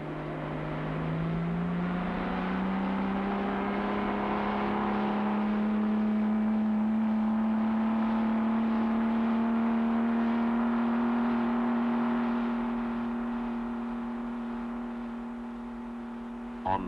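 Triumph engine running steadily on a dynamometer test bed in a factory, a sustained droning hum with a slowly rising tone, loud and continuous, settling lower near the end.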